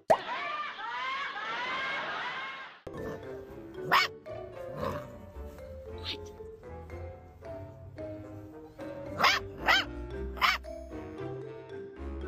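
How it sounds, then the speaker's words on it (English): A dog barks in a series of sharp, loud barks, some spaced apart and a few in quick pairs, with a short burst of other voice-like sound at the start. "His bark sounds like Cleo from the cartoon Clifford Show from back in the day."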